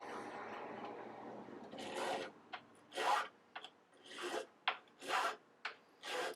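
A millwright file works the frets on an ebony fingerboard of a Les Paul Custom. A close, continuous rasp is followed by about seven separate scraping strokes in a steady back-and-forth rhythm.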